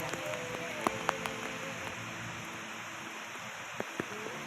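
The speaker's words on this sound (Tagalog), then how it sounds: "hindi naman masyadong malakas yung ulan" Light rain patters steadily on a campsite canopy and tent at an army camping ground, a soft continuous hiss broken by a few sharper drips and taps.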